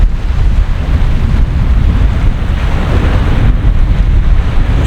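A cold easterly wind blows steadily and loudly at the Blackpool shore around sunset, roaring into the microphone over the wash of surf at low water.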